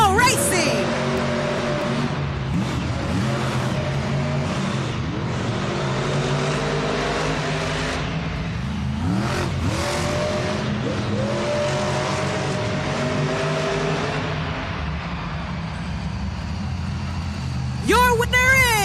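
Monster trucks roar through a race at a Monster Jam arena event in Tacoma, loud continuous engines with rising revs and pitch sweeps, crowd and announcer voices mixed underneath.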